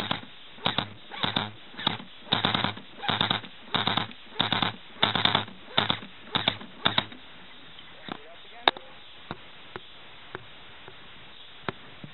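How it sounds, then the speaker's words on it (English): Well R6 M4A1 airsoft gun firing in a rapid series of sharp bursts for about seven seconds, followed by a few scattered single shots, fairly close. "Now I'll try to give you a first-person shooter kind of view of me shooting."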